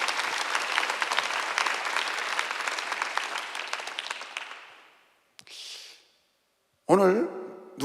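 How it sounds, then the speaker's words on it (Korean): A church congregation applauds during a Sunday sermon, a loud, dense burst of clapping that fades out after about five seconds, followed by brief scattered noises. "아, 박수 좀 세게 쳐요, 진짜요."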